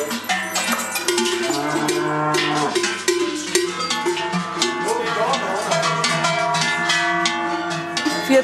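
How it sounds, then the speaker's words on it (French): Cowbells clanging on cattle gathered before the alpine departure, a dense, continuous jangle of many bells ringing together at close range throughout, with faint lowing and voices mixed into the din. "Le son des cloches, soigneusement stockées dans le grenier, annonce l'imminence du départ."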